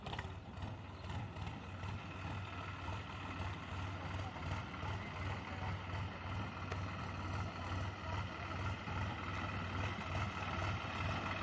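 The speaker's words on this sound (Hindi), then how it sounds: "तो अपनी मशीन अब आ चुकी है, आ गई है मशीन, आ गई।" Wheat harvesting machine arriving in a field, a continuous low mechanical engine drone with rattling and clattering over it, steady and fairly distant, with no talk over it.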